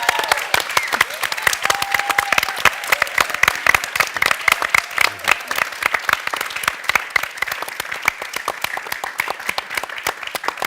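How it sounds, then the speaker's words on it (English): Steady applause from a theater debate audience, many hands clapping continuously at a moderate level, with no talking. "an applause to Rose, because she made this possible."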